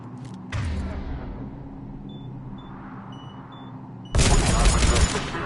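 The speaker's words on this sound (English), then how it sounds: "The cannon fire is clearing the way." Heavy cannon fire booms in the Mass Effect 3 video game: one burst, then a louder, longer roar of blasts a few seconds later, with quieter rumbling between.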